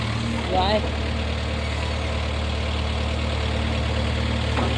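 A farm tractor engine idles nearby with a steady low rumble and even throb, a voice cutting in briefly near the start.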